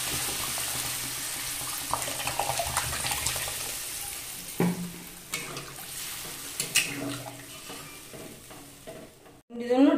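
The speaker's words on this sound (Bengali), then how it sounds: "আলু আর ডাটা খুব ভালো করে মশলার মধ্যে একটু কষিয়ে নিচ্ছি" Potato and drumstick pieces sautéing in spices in a pan, with steady close sizzling broken by stirring scrapes and clatter, and louder knocks toward the end.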